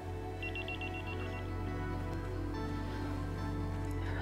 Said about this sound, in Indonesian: Kayaknya Mas Yoga selama aku menghindar nggak akan berhenti deh telepon aku.